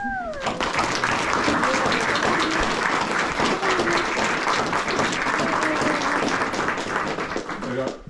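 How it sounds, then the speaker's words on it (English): Wedding guests applaud throughout in a dense, steady wash of clapping, with a voice or two calling out over it. "Ladies and gentlemen, how about a big round of applause?"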